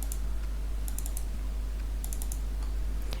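Fingers tap on a computer keyboard in short bursts of crisp clicks over a steady low hum. The clicks come in two quick clusters with isolated taps between them, close to the listener and without speech.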